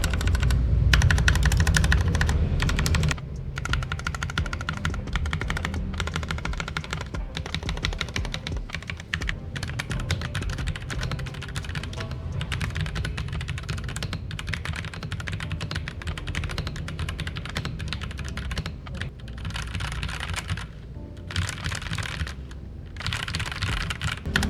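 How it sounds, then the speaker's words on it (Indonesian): Steady, rapid clacking of keys on an Armaggeddon GMK-100 RGB mechanical keyboard with pre-lubed switches and stabilizers, close and continuous with brief pauses, the keystrokes blurring into a dense rattle. "sekarang kita coba dengerin typing testnya."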